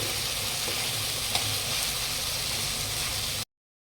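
Tomatoes sautéing and being stirred in a pan for a fish curry, a steady close sizzle and hiss with a faint scrape partway through, running unbroken before cutting off abruptly.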